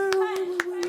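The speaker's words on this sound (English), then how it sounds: "Can we get a round of applause for Natalie, please?" Four separate hand claps, evenly spaced and close, ring out for Natalie at a small talk evening while a sustained voice carries on underneath.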